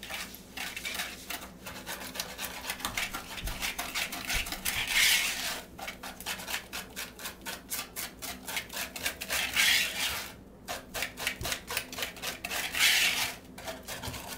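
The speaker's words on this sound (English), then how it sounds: "you're just going to whisk it together, as you can see there, until the egg and sugar are combined" A whisk beating egg and sugar together in a bowl for a zucchini chocolate loaf batter, with steady rhythmic scraping strokes that continue throughout at moderate volume.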